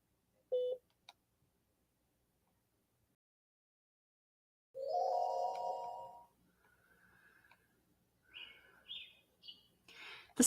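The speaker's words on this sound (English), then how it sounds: "The sound of birds chirping wake me up from my deep slumber." Birds chirp in short, bright bursts: a couple of faint calls early, then a louder run of warbling notes and scattered higher tweets, with no voices.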